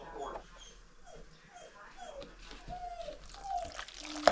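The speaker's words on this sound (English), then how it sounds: "now the dog's going to bark a bunch during the video" A dog whimpers and yips in a home kitchen where potato salad is being made, a series of short rising whines and squeaks repeating close by, with a sharper yelp near the end.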